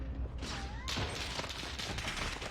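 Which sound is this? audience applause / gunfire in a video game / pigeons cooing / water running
gunfire in a video game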